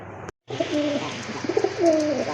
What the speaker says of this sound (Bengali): সবচেয়ে ট্রেন্ডিং এ থাকা এক জোড়া কবুতর রাজগোল্লা